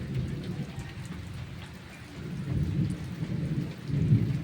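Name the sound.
stormy rain with thunder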